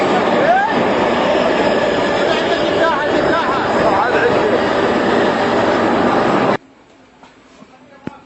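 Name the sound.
train arriving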